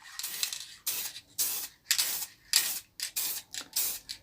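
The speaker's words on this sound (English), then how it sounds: "it's just a case of spraying this over gently" Aerosol sealant is sprayed over a routed recycled-wood plaque in about eight short, close hissing bursts, each lasting roughly a third of a second and separated by brief pauses.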